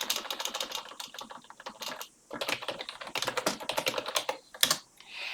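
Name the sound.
typing on a computer keyboard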